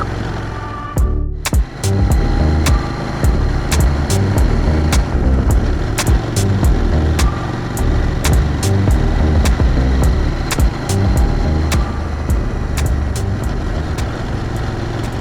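Car driving along a gravel and sand track in Morocco, tyres crunching and rattling over loose stones with the rear sliding slightly, a steady close engine drone and frequent sharp gravel ticks throughout.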